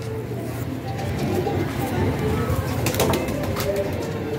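Pigeons coo at a pigeon club, soft repeated throaty calls heard close against a steady background hum, with someone speaking over them.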